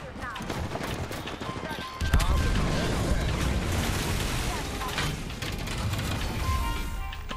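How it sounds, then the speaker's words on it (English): Video game gunfire during a match near Cascade Falls, a dense, continuous rattle of shots and impacts mixed with game noise and excited players talking over it. "We're just shooting in the bushes."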